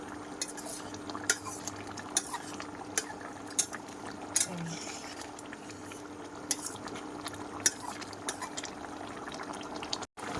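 Meat curry simmers in a pot as water goes in, with a steady bubbling hiss, soft liquid sloshing and scattered sharp clinks of a spoon against the pot.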